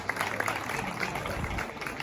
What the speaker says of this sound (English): I acknowledge the presence of Mr. Joseph Edu with a round of applause.